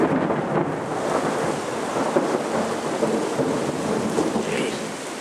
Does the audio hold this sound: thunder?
yes